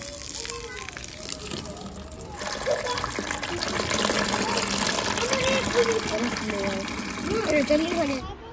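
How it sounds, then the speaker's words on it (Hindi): Water gushes steadily into a container, a constant rushing and splashing that grows fuller, with people talking over it. "जल्दी करो, पानी तेज आ गया है"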